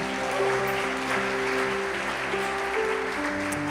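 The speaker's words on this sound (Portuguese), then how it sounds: "Aplauda o Senhor." A church congregation applauds in a steady, dense wash of clapping that runs the whole moment, with sustained music tones underneath.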